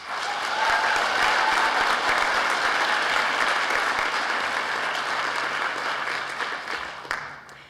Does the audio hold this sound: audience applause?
yes